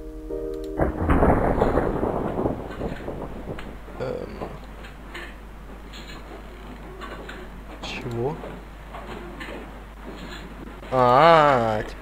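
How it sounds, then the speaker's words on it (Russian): Rain and thunder in the Cube Escape Collection puzzle game, mill level, a heavy rumbling roll of thunder breaking in early and fading into a steady hiss of rain, with someone talking over it and a wavering tone near the end. "Теперь пошел дождик"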